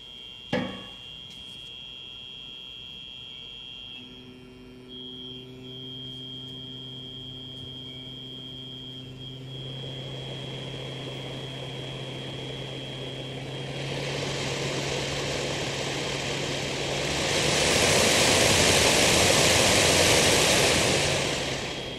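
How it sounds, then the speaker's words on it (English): A car's HVAC blower motor, from an Audi, driven by a PWM test tool on a bench power source, starts with a click and then whirs with steady tonal hum, rising in speed and airy rush in stages to a loud roar near the end. "I've got the blower motor hooked up to the tool and the tool hooked up to the power source"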